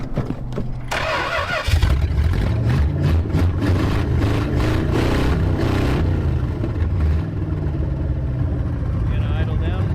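A junkyard Chrysler car engine cranks and catches, then runs at a rough, uneven idle nearby, with voices talking over the running motor.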